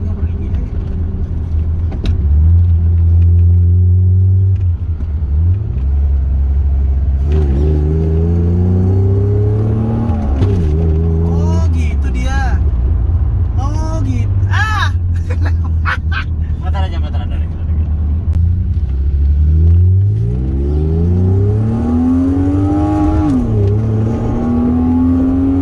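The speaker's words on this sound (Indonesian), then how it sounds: "beda ceritanya kalau misalkan kita lagi nyobain yang namanya flat shift" A car with a quick shifter revs hard through repeated flat shifts, the engine note climbing and dropping in quick steps, loud and close, with someone talking over it.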